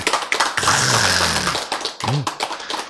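Listeners at a lecture on the Bible clap in scattered, uneven bursts of sharp hand claps, with voices murmuring through the middle.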